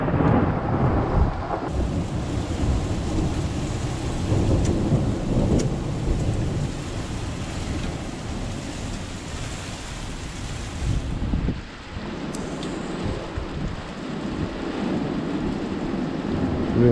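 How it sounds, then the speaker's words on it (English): Storm Ciara drives strong wind and rain in a loud, continuous roar with surging gusts and a brief lull near the end; no one speaks. "A little windy again."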